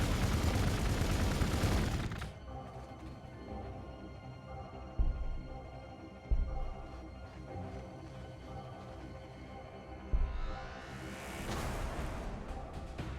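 Units opening fire in a strategy video game: a loud, dense burst at the start, then a few isolated booming impacts spaced seconds apart over a humming musical bed.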